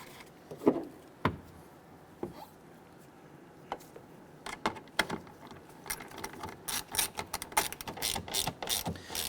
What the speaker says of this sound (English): Let's install the two nuts on the inside. And we'll snug those down.